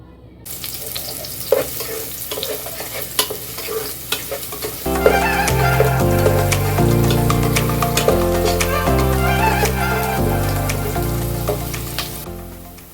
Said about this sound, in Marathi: हे आता आपण फोडणी करणार आहोत.